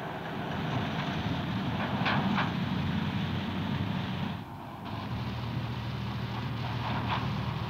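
A tram roars overhead across a railway underpass in 1965. The loud, rumbling passage lasts several seconds, dips briefly, then continues with a steady rolling rail noise.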